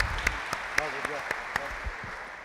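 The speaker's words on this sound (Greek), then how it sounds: "Να δώσουμε ένα χειροκρότημα στα παιδιά που έχουν κάνει προσπάθεια στην άμυνα λιγάκι" Scattered, sparse handclaps from a small group at a basketball coaching presentation on 1-3-1 zone defense, a few separate sharp claps spaced out, with a voice talking between them.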